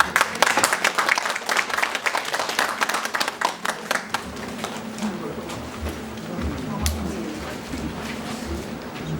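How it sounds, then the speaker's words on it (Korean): Audience applause at a Korean literary essay award ceremony, dense clapping loud for the first four seconds, then thinning into scattered claps under low room murmur and a voice. "박수로 모시겠습니다."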